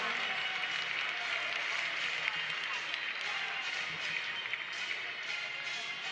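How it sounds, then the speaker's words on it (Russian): Spectators in the stands at the 2013 Ivan Yarygin Grand Prix freestyle wrestling tournament in Krasnoyarsk clap steadily, a broad, somewhat distant wash of applause with a voice speaking over it. "Поздравляет, друзья, аплодисменты на трибунах."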